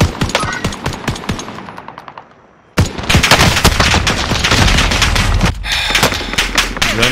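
Light machine gun fire in the video game Warzone, dense rapid bursts of gunfire that break off briefly and then resume loud and continuous, with heavy booming impacts.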